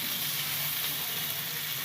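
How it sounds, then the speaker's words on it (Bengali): Potatoes fry in hot oil in a pan while a crab curry is prepared, giving a steady, close, even sizzle and hiss that holds unbroken and loud throughout, with no voices. "আলুগুলো এইভাবে লাল লাল করে ভেজে নেবেন।"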